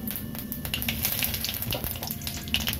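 Fennel seeds and torn bay leaves crackle and spit in hot mustard oil, a close, busy sizzle with scattered sharp pops running throughout.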